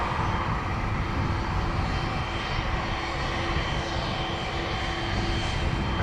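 Airliner engines roaring during takeoff at Dublin Airport: a steady broadband jet rumble with a faint tonal whine, moderately distant and holding evenly throughout, with no voices.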